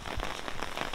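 Rain falls at Kousanji Temple as a dense, even patter that is close and fairly loud, with no voices over it.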